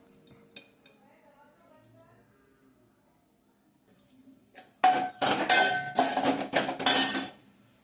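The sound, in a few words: roasting cashews, almonds, raisins in ghee in pan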